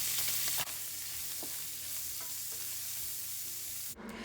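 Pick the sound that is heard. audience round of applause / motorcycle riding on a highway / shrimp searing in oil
shrimp searing in oil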